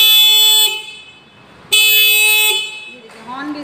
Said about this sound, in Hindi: हॉर्न भी इसका काफ़ी अच्छा है।